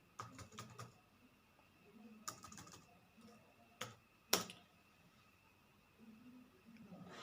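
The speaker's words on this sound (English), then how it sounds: "Here let us type the definition." Key presses on a computer keyboard come in short scattered bursts with pauses in between, fairly quiet and close in a calm room, with one sharper click near the middle.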